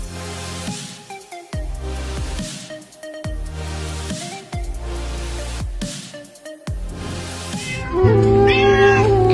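A little kitten rescued from a road by a driver gives a string of loud, insistent meows, one after another with short pauses, over background music.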